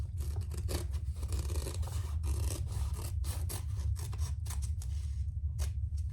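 Scissors trim excess material from the card slot piece of a convertible phone pouch crossbody belt bag, giving a quick run of close, crisp snips at an uneven pace with short pauses.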